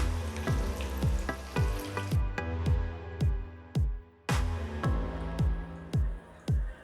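Banana flower and ginger pakoda frying in hot oil, a steady sizzle broken by a run of sharp, regular clacks and taps from nearby utensil handling throughout.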